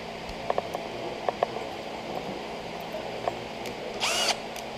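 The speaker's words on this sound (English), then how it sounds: "Put it in a pistol drill." A few light clicks and taps, then a short, rising whir as a handheld pistol drill spins up a drywall tool's extendable handle rod briefly near the end.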